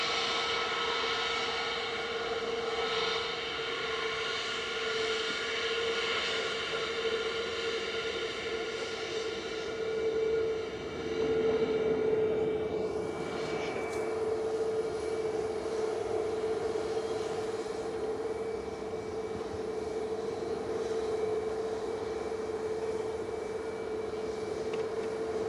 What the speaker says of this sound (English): Next up, lining up to go, is Ryanair to Seville with flight 4200